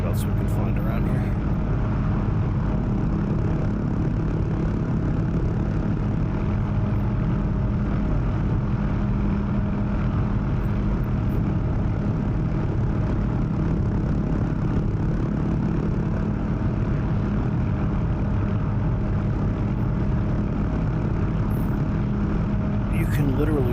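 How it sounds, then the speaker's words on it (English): An OH-6 Cayuse light helicopter drones steadily in DCS, flying around Las Vegas, a loud constant engine and rotor hum that never lets up. "So this is really not a bad little chopper to fly."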